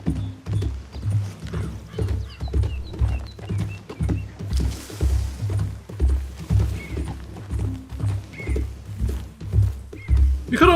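A horse in Red Dead Redemption 2 trots steadily along, its hooves sounding a continuous rhythmic clip-clop close by, with an occasional snort or whinny and faint background game ambience.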